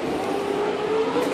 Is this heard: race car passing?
yes